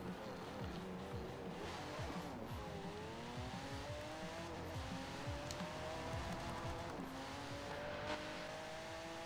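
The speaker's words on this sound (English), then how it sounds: "thank God they've not ruined the sound of this car" A supercar driven in Forza Horizon 4 roars continuously as its engine revs rise and fall through gear changes, with tire squeal and skidding over a steady loud drone and no talking.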